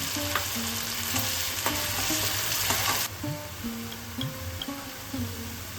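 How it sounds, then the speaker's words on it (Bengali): Ginger paste and onion paste fry in hot oil with a steady loud sizzle, broken by scraping stir strokes and soft clinks of the spoon, for an egg saranga dish. "এবার আমি আদা বাটা দিয়ে দিই এবার আমি পেঁয়াজ বাটা দিয়ে দিচ্ছি"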